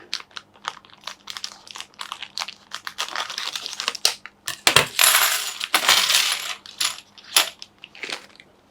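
Plastic packaging around metal board game pieces is cut and torn open, giving close crinkling, crackling and snipping sounds with clinks of metal pieces, loudest in the middle.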